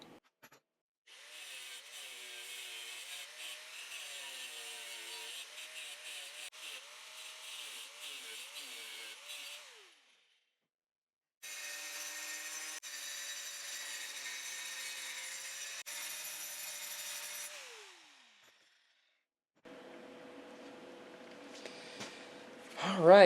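An angle grinder cuts and grinds metal off a recumbent trike frame in two long, steady whining passes with a gap between them, and the pitch winds down at the end of each pass.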